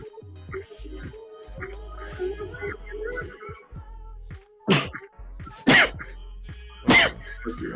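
Sharp bursts, likely sneezes, break out three times in the second half, loud and close, after quieter murmuring and a low steady hum.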